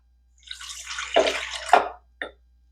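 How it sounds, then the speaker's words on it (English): Warm milk, three quarters of a cup, poured into a bowl for bread dough, giving a steady liquid splash that swells over about a second and a half, then a brief final trickle, close and alone. "And then I'm going to pour in my 3/4 cup of warm milk."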